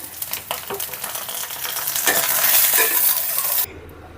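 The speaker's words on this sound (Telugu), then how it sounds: "మన పచ్చిమిర్చి కూడా వేగినీయండి ఇలా వస్తే సరిపోతుంది" Green chillies sizzling and crackling in hot oil with a spoon stirring through them, the frying steady and close before cutting off abruptly.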